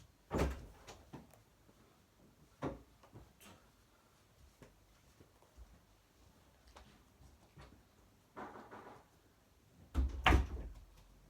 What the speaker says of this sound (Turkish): Kapı pat diye açılınca ne oluyor?